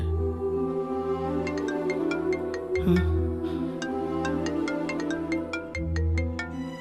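An incoming call sets off a mobile phone ringtone in a Tamil TV drama. A bright, repeating electronic melody plays loudly and steadily for several cycles with no talking over it.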